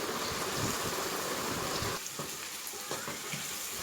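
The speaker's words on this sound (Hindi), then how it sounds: "अब इसको अच्छे से मिक्स करेंगे।" Mutton liver with coriander, chili, turmeric and salt is mixed in a hot pan for karahi kaleji. A dense, loud sizzle softens after a couple of seconds, with stirring scrapes and crackles continuing close by.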